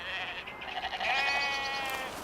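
Sheep bleat close by on Brighton urban grazing land, a wavering, nasal call that rises and trembles for about two seconds, with a second voice joining near the end.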